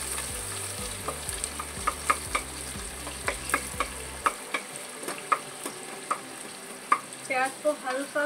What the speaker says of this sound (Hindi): इसमें मैं बाकी की फोरन डाल रही हूँ, लाल मिर्च, तेज पत्ते, कटे हुए प्याज